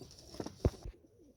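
Young racing pigeons out of the loft for the first time, giving a few soft, close coos and low calls over about a second before things go quiet.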